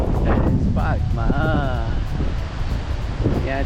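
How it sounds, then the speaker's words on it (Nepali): Strong wind buffets the microphone in a steady, loud roar at the Japanese Gardens in a Sioux Falls park, while people talk close by over it. "हावा लागिरहेको छ एकदम"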